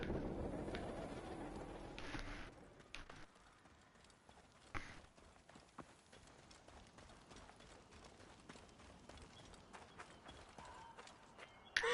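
A horse galloping in Assassin's Creed Origins, quick hoofbeats thudding in rhythm amid game sound effects and ambience, fairly faint and mixed with other in-game noises.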